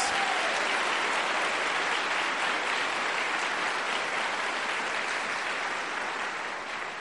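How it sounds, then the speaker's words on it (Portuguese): A church congregation at a prayer group claps steadily in a dense, loud wash of applause that holds unbroken for the full length, with no voices above it. "Bata palmas. Mais forte as palmas."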